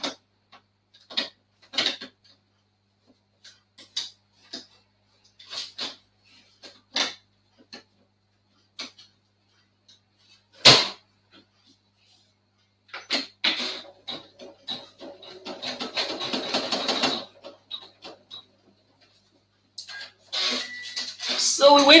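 A Janome 500e embroidery machine stitching a design onto a hooded towel, with rapid ticking taps that come in short bursts and then a longer run of dense, fast stitching, heard up close.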